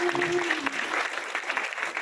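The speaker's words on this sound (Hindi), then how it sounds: "एक बार हमारे विक्रम भाई के लिए जोरदार तालियां बजा दीजिए।" Sustained applause from an audience at a Shiv Mahapuran katha held at Sidh Baba Balaknath Mandir, Sector-29, clapping for Vikram Bhai: a dense, even patter of many hands throughout, with a brief tonal voice or instrument at the start.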